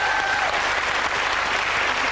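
A studio audience claps loudly and steadily for about two seconds, a dense, unbroken wash of applause.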